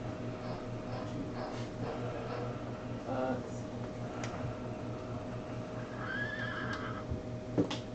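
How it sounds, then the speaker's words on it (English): A horse neighs and whinnies outdoors, heard faintly through a room with a steady electrical hum, accompanied by a few hoof clops and a whinny near the end. "You hear your horse outside?"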